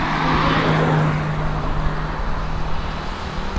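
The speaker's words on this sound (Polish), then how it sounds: "A suwy jeżdżą jak to w Laosie." Steady road noise of SUVs and other vehicles rolling past on a road in northern Laos, a continuous near rumble with a faint engine drone and no voices.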